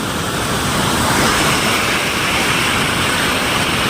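Swollen monsoon floodwater surges high and fast near a village fishing spot, producing a dense, continuous roar that stays loud and even from start to finish, with no speech.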